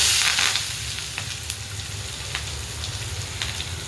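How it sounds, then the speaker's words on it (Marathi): Mustard seeds, cumin, curry leaves and onion fry in hot oil for a spiced potato dish, making a dense, hissing sizzle that is loudest at the start and then settles into an even crackle, close up, with no voices. "आता आपण ह्यात मोहरी टाकून घेतली, मग जिरे टाकलेलं आहे. कढीपत्ता आणि कांदा टाकून घेऊया."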